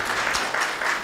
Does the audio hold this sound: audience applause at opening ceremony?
yes